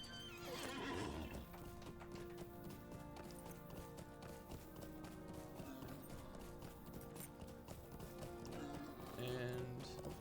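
Horse neighing and hoofbeats galloping in the Lord of the Rings Online video game, a whinny near the start and steady clip-clop running beneath game music, with another neigh near the end.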